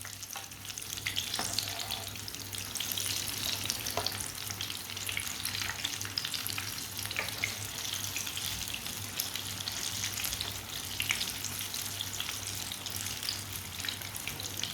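Potato tikki frying in a pan, a constant close sizzle with light crackles and occasional soft utensil clicks, running steadily without talk.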